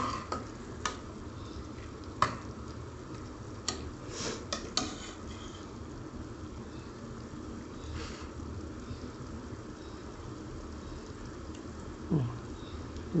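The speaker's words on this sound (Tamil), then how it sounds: "இப்போ நல்லா கொதி வந்துடுச்சு" Mixed vegetables boil in a pot of water for vermicelli kichadi, giving a steady close bubbling hiss with occasional light clinks and taps from the pot.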